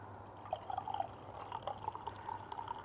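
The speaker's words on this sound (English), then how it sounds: "So what we're going to do is just pour nice and carefully" Home-brewed beer trickles gently from a bottle with yeast sediment, a soft, slow pour with small gurgles and drips over a quiet background hum, no talking.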